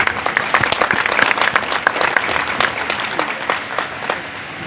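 Loud audience applause at a Jharkhand youth parliament event, dense clapping from a large crowd sustained throughout with no talk.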